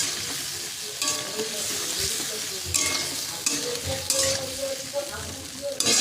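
Masala being stirred and fried in a pan, a steady close sizzle with repeated scraping strokes of the spoon running throughout at a fairly loud level.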